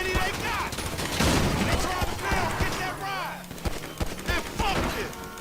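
Gunfire in Grand Theft Auto 5, a pistol and an Uzi trading shots, comes as dense overlapping bursts through the whole stretch, with voices talking over the shooting.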